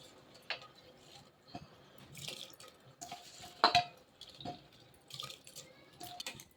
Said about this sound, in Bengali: একদম ভালোভাবে জলটা ছেঁকে ছেঁকে চালটা দিতে হবে যাতে করে এক্সট্রা জলটা না যায়